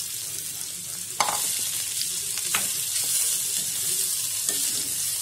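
Smashed potatoes for a samosa filling sizzle steadily in a hot pan, broken by a few sharp scraping stirs of a spoon against the metal.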